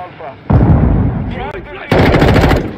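Rapid automatic gunfire from the Modern Warfare 2 video game, two loud sustained bursts of shots separated by a brief pause, close and dominant.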